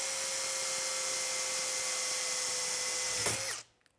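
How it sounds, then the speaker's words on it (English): A power drill bores through one wall of a box, its steady high whine holding loud and even for over three seconds before winding down abruptly and stopping. "we're just going to drill through one side of the box"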